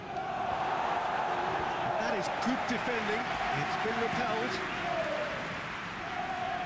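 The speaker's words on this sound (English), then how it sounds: "Well, at least the crowd are appreciative of his efforts." Stadium crowd in the PES 2021 football video game, a steady broad roar of cheering and applause filling the whole clip beneath continuous commentary.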